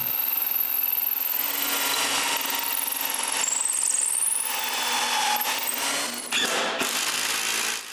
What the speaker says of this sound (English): Then I can drill the 6 pilot holes.